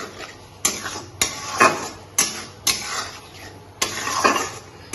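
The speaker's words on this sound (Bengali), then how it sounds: "এবারে মশলাগুলো খুব ভালো করে কষিয়ে নেবো।" A spoon scrapes and knocks against a pan while spice paste is stirred and fried for a boal fish head curry, giving about seven sharp, evenly spaced clinks with a soft sizzle between them, close by and with no voices.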